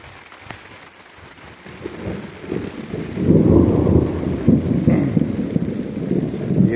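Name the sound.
rain and thunder on a farm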